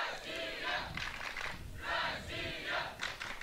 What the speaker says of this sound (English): now you can hear some of the fans are cheering up their fellow teammates